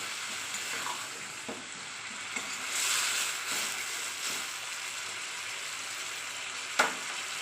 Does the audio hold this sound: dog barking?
no